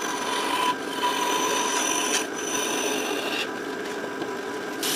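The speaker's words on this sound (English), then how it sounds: "a lot of times 220 sandpaper is all I use" 220-grit sandpaper rubs against a wooden drop spindle spinning on a lathe, a continuous close, hissing rasp with a few brief dips as the paper is shifted.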